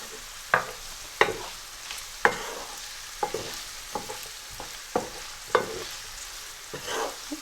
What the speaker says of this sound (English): I'm just going to give that a quick mix.